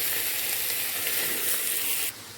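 Ghee sizzling in a pressure cooker for carrot halwa gives a loud, continuous close hiss that holds steady and then drops sharply near the end, with no talk.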